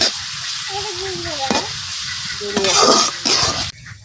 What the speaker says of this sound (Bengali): পেঁয়াজটা ভাজি হইতে হইতে